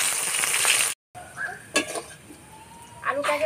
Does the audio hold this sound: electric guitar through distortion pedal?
no